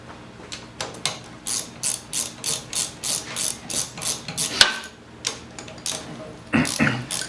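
A ratchet works loose the nuts and bolts on the top end of a 1977 Honda CT90 Trail engine, close up. A steady series of about a dozen clicking strokes comes in even rhythm, then a pause before a few more turns.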